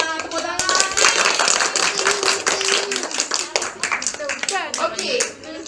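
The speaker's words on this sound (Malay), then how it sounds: "Tepuk tangan." Schoolchildren in a hand-sewing lesson clap together, a dense, lively burst of many small hands mixed with children's voices chattering throughout.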